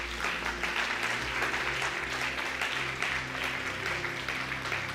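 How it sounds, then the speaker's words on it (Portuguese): Congregation clapping in praise at a church service, a dense continuous wash of applause under a low sustained organ or keyboard tone. "Pode aplaudir ao Senhor."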